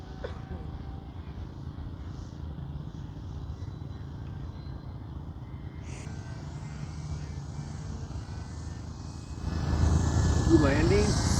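SkyWing 48-inch Edge 540 RC aerobatic plane hovering at a flying field, its electric motor and propeller droning steadily at a distance, then swelling louder near the end.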